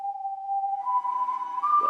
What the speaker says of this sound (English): That whistle almost sounds familiar to It's a Small World from Disney World and Disneyland